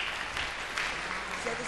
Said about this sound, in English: Appreciative round of applause for Lena Karsfeld.